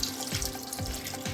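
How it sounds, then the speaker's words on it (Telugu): A pot of water is poured over pieces of country chicken in a cooking pan, a short continuous splashing pour close by with a few rhythmic gurgling surges. "ఒక చెంబు వాటర్ పోసుకుందాం."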